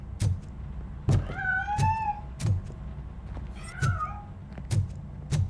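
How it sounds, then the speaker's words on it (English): A cat meows twice in a Robocop Rogue City game scene, clear drawn-out cries over a low rumbling background with regular heavy thuds. "That cat must be hiding inside."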